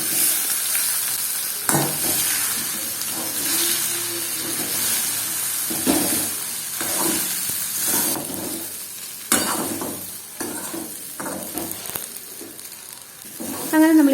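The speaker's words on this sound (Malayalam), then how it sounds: "ഇത് കരിഞ്ഞു പോകുന്നതിന് മുമ്പ് നമുക്ക് ഈ ഉരുളക്കിഴങ്ങ് ഇതിലേക്ക് ഇട്ട് കൊടുക്കാം." Potatoes frying in a pan with turmeric and chili flakes, a steady close sizzle with hiss and occasional stirring scrapes and knocks, louder bursts where ingredients hit the hot oil.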